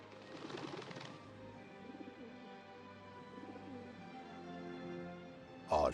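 A dove coos in low, rolling, repeated calls over a sustained tonal backdrop, with a sharp burst at the very end.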